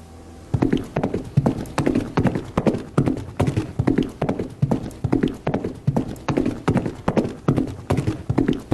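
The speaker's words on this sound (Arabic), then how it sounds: "لا ما صوت حصان، صوت حوافر حصان" Horse hooves clip-clop in a steady, even walking rhythm, each crisp knock distinct and close, continuing for several seconds with no talk over them.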